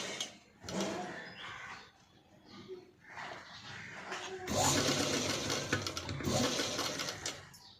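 A sewing machine stitches piping along a blouse neck in several runs of fast rattling whir, separated by short pauses, close and fairly loud.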